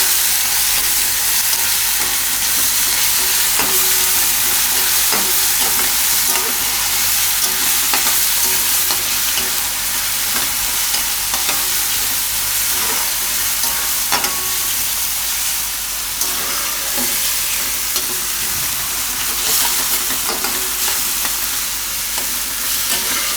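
Ginger, chili and garlic frying in oil while being stirred, a steady loud sizzle running throughout with frequent scraping and clinking of the stirring utensil against the pan.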